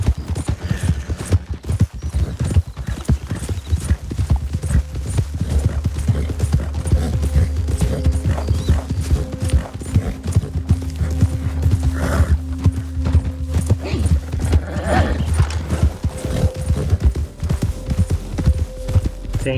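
Horse hooves clop steadily in Red Dead Redemption 2, a continuous rhythmic gait carrying on for many seconds over low ambient rumble, with no talking.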